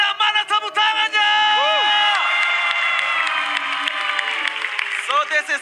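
An arena crowd at a Mobile Legends MPL Indonesia Season 11 esports match between RRQ and Alter Ego cheers and screams loudly with applause, high excited voices holding a sustained roar over several seconds.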